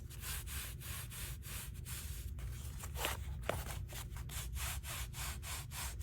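Coarse, scratchy fabric being rubbed by hand in a series of quick, rhythmic brushing strokes, close and fairly quiet, with no talking.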